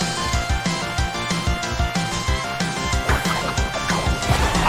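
An attack lands in the Pokémon Battle Revolution video game, a smashing hit heard amid busy battle music with rhythmic pounding beats and clashing effects, loud and continuous throughout.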